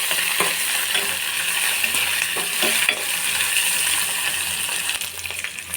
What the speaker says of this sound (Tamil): கருவில் போட்டுக்கலாம் பூண்டு போட்டுக்கலாம் வெங்காயம் போட்டுக்கலாம் உப்பு ரெண்டு போட்டுக்கலாம் கொஞ்சம் நல்லா வதக்கலாம்